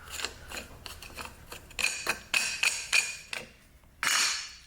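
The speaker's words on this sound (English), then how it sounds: "Let me take the air cleaner cover off." The air cleaner cover of a 1985 chainsaw comes off, producing a series of close, sharp plastic-and-metal clicks, clacks and knocks, irregularly spaced, ending in a brief rustling scrape.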